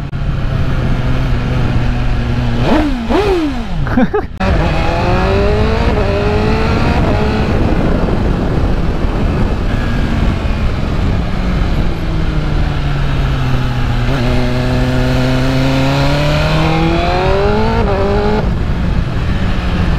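A BMW M1000RR sports bike engine revs and pulls hard through rising gear shifts with a quick shifter, loud and close. The sustained high-pitched wail climbs and drops with each change, and no one speaks over it.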